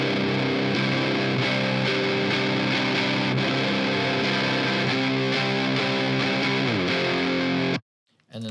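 A distorted guitar in a track repeats the same pattern in a dense, wall-like wash with steady sustained chords, heard alone before cutting off abruptly near the end.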